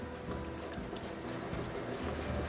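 Water poured into a simmering pot of softened onions, wine and balsamic vinegar, a steady close pour with splashing and trickling that runs the whole time, with no voices.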